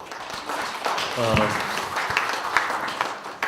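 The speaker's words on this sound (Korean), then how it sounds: "박수로 환영해 주십시오." Hall audience at a Korean academic conference applauds to welcome a speaker, a moderate, steady patter of many hands clapping at a distance, with a brief voice heard partway through.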